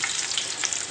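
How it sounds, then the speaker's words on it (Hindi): Garlic fries in hot oil for a tadka, giving a loud, continuous sizzle that crackles steadily throughout, close up and with no voices. "चलिए जी, अब हम तड़का लगाते हैं।"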